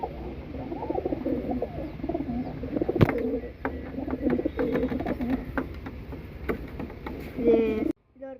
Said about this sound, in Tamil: இது ஒரு கர்ணப்புறா.